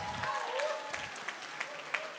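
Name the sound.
round of applause for the hosting families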